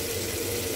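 Water drains and splashes off sprouted mung beans in a brief, close, continuous rush with no voices.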